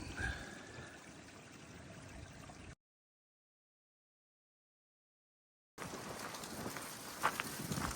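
Water pours and trickles steadily while a bottle is filled at a stream source on the Appalachian Trail, a close, continuous sound broken by a silent gap before resuming.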